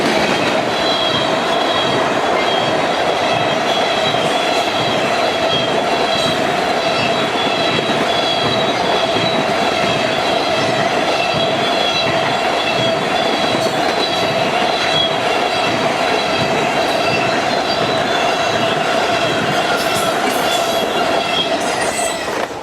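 Freight train B648 rolls northbound past the north end of Robards, Kentucky, on the Henderson subdivision, a loud, continuous rumble of wagons with steady wheel clatter and a high squeal running throughout.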